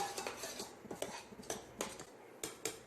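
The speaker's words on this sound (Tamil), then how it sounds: "ஏற்கனவே வறுப்பட்ட ரவையாக இருந்தால் கூட நம்ம நெய்யில் நல்லா வறுத்து எடுத்துக்கணுங்க" Rava (semolina) roasting in ghee in a pan while a spoon stirs and scrapes it: rapid, rhythmic metallic clinks and scrapes, close and clear, with no talking.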